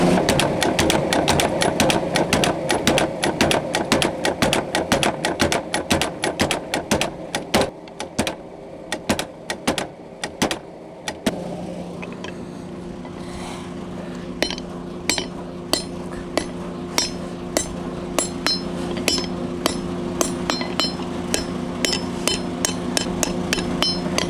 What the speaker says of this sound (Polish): Grzać i kuć. Młot w ruch i kuć.